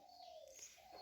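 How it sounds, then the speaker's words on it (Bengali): A single soft dove coo, faint and distant, with a brief chirp in a quiet outdoor setting. "এই যে ঘুঘু ঘুঘু ডাকতেছে দেখছিস"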